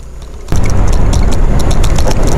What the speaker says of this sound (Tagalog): Tignan natin kung kaya ng motor.